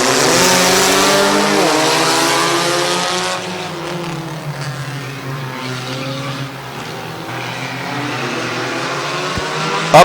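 Race cars on a small oval track at Midvale Speedway roar loudly as a six-lap heat race starts, engines climbing in pitch through the gears, the sound staying close and continuous with no talk.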